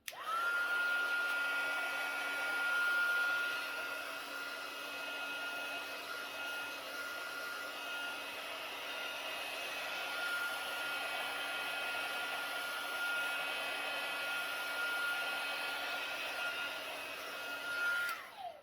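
A handheld hair dryer blows steadily close by while drying paint on a DIY laundry room sign, a continuous whooshing roar with a thin steady whine, switching on at the start and off at the end.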